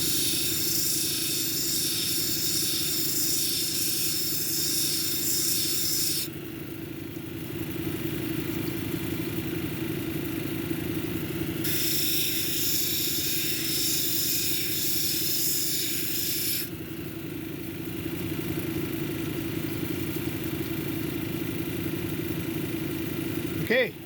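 A lapidary grinding wheel runs steadily as a red jasper cabochon is shaped against it, with two bursts of bright hissing grit-on-stone contact over a continuous motor hum, while someone talks throughout.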